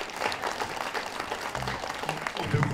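Audience applause at a Swedish CD presentation event, a dense steady clatter of many hands clapping throughout, moderately loud, with a faint voice at the end.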